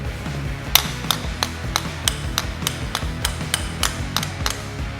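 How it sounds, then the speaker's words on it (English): A hammer taps on a bolt on a John Deere backhoe, a fast run of sharp metallic strikes at a steady rhythm over a low mechanical hum, close and clear. "go ahead and tap on this bolt."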